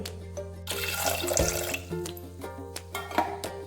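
Water is poured into a pressure cooker holding washed jackfruit seeds. A soft, continuous splashing stream starts after a brief pause and stays close and gentle throughout, with no talking.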